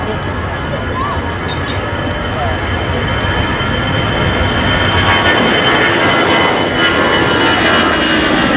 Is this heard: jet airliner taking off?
yes